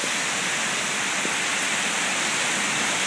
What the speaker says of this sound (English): We have rain going sideways.